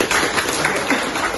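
Brief applause from a workshop audience for a guest, a close, even patter of many hands clapping at once.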